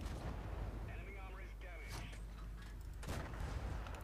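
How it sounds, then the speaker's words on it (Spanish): Two heavy tank cannon blasts in World of Tanks, each a sharp booming burst over a steady rumbling engine background, the second louder and longer. "A veces disparo y no me da el tiro."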